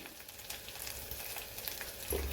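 Onion fries with turmeric and chutney masala in a pan, a soft, steady sizzle heard briefly and faintly, with a few light stirring scrapes near the end.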